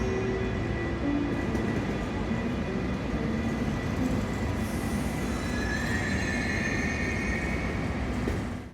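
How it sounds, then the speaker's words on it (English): A Bergensbanen passenger train pulls into a Norwegian station, arriving inbound from Oslo, with a steady loud rumble of rolling carriages and shrill wheel squeal rising toward the end. "Our train today will be the 1537 service to Oslo, which is actually arriving now as an inbound service from the capital."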